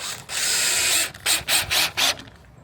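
A power drill drives 2-inch screws into a sauna wall during assembly, one long whirring run followed by three short bursts, close and loud.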